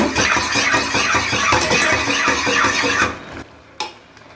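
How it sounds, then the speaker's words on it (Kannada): Thick ragi mudde (finger millet dough) is stirred and worked in a hot pot on a stove, a dense continuous scraping and thudding that runs steadily for about three seconds, then fades, with one brief later knock. "ಚೆನ್ನಾಗಿ ಒಲೆ ಮೇಲೆ ಬಿಸಿ ಬಿಸಿಗೆ ನಾವು ತಿರ್ಕೋಬೇಕಾಗ್ತದೆ"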